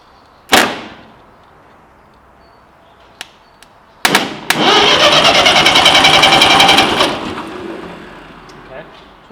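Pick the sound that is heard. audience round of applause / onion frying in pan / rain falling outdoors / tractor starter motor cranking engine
tractor starter motor cranking engine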